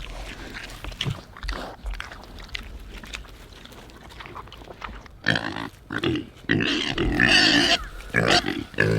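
Farm pigs in a muddy pen grunting and snuffling close by, with irregular bursts that grow louder and busier toward the end, no talk.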